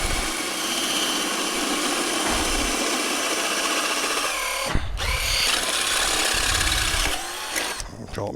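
A power drill with a blunted bit grinds through wood in a loud, steady whir, cuts out briefly near the middle, then resumes before stopping with a few clicks near the end.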